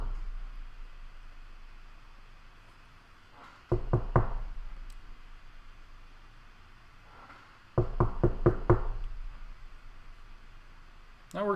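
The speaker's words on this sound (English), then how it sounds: "I can also tap on the desk from a few feet away" Two separate bursts of knocking and tapping on a desk, each a quick cluster of sharp raps, heard close against quiet room hiss.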